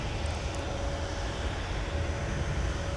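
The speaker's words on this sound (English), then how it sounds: "our next departure taxiing by us on Taxiway Whiskey for Delta Airlines" A Delta Airlines jet taxis along Taxiway Whiskey at Minneapolis–St. Paul airport in winter, a steady broadband engine rumble and roar heard from fairly close with no voices.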